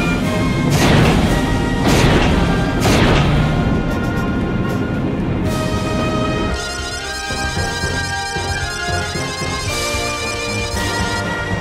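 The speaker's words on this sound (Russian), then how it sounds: "Три залпа одновременно." A spaceship cannon fires in the Captain Herlock anime: three loud, booming blasts land close together in the first few seconds, then a sustained tonal rumble carries on.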